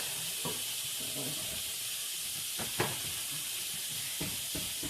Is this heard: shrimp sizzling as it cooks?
yes